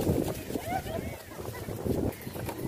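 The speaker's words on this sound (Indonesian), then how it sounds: "Ini kebetulan hari ini cuacanya ekstrim sekali ini. Anginnya kenceng banget ini." Strong wind buffets the microphone at a fishing spot on shallow water, about one to one and a half meters deep, a steady rumbling gust heard under continuous talk.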